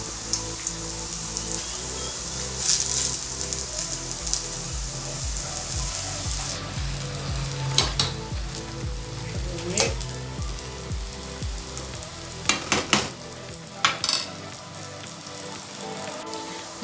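Vegetable pakoras in chickpea flour batter frying in hot oil, a dense continuous crackle and sizzle like rain, with a few sharper pops and clinks of utensils toward the end.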